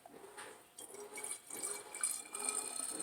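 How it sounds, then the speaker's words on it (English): Homemade mouthwash pours and trickles into a clean bottle, with bright splashing and dripping that grows fuller and denser as the liquid runs, close and moderately loud. "I'm going to pour it in my nice, clean, fresh bottle."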